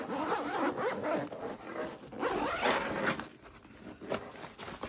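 Main compartment of a Fyro Levo travel backpack being unzipped, a close, loud, ragged zipper rasp in several long pulls with brief pauses between.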